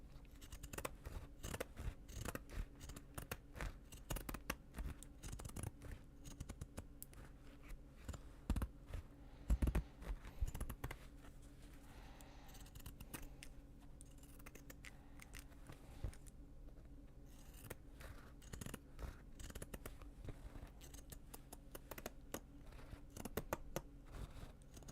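Scissors shearing Japanese fabric at a sewing table, with a long run of quiet, close, rhythmic snips and crunches repeating steadily throughout.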